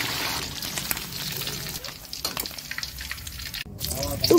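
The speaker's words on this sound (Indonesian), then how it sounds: "kita goreng ikannya, kemudian tiriskan" Mackerel frying in a pan, a steady hiss and crackle of hot oil running throughout, fairly close, with faint voices and a brief clatter near the end.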